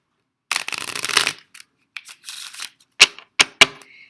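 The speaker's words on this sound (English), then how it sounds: "I have to shuffle my cards a little bit, right? I'm just going to shuffle them." A deck of playing cards is shuffled in a few quick bursts: a long riffle, shorter flutters, then three sharp snaps as the cards are squared, close and fairly loud with no talk.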